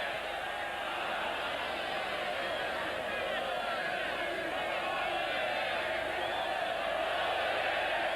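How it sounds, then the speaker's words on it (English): Stadium crowd at a 1991 Copa America group match between Argentina and Venezuela keeps up a steady, dense roar of cheering and shouting throughout, a constant wash of many voices with no clear breaks. "The crowd are loving it here, seeing Venezuela knocking together a few passes."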